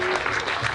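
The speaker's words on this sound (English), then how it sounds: "Give him a big round of applause, folks." A short burst of audience applause at a community event, dense clapping from a crowd, brief and fairly loud.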